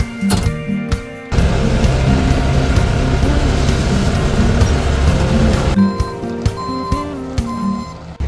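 A truck delivers gravel, a loud, sustained rush and rumble of stones pouring out for about four and a half seconds, with electronic reversing beeps sounding before and after the load drops.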